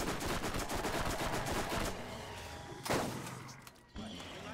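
Gunfire in the Borderlands video game comes as a rapid burst of shots up front and then scattered single cracks, fairly faint overall.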